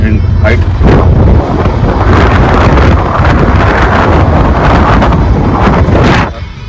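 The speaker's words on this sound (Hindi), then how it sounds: "काफ़ी ठंडी हवा चल रही है।" Cold wind blows at high altitude near Baralacha Pass in Ladakh, a loud, steady rumbling gust that buffets the microphone throughout and drops away only at the very end.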